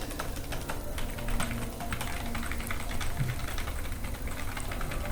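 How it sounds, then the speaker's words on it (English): Steady run of rapid keystrokes on a computer keyboard, continuous clicking at moderate level over a low background hum, with no voices. "You got to do a lot of typing to get into this file"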